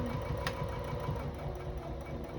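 A sewing machine stitching a fabric makeup bag, running steadily with a continuous mechanical whir and fast rhythmic needle chatter, close and moderately loud with no talking.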